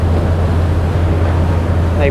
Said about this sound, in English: we're just going to let this rib come past us here